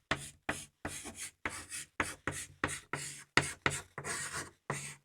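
Marker or pen strokes scratch across a board in a rapid series of about a dozen short, close rubbing bursts, each separated by brief silences, with no talking over them.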